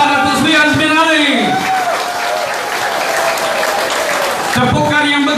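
A crowd at a political election rally claps and cheers loudly while an announcer's voice carries over the applause, with shouts and general hubbub throughout.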